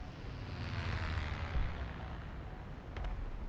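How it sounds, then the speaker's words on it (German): A helicopter in the War Thunder tank battle game passes overhead as a broad, steady rumbling drone, moderately loud and continuous with no talk over it. "Ja, ist ein Hubschrauber tatsächlich."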